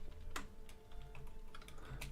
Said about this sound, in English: Don't mind my typing if you guys can hear that.